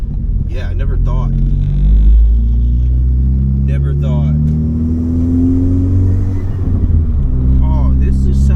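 A Ford Focus MK3 fitted with a SideWinder turbo kit drives with a steady low engine rumble and rising revs, loud and close throughout, with a few brief sharp transient noises.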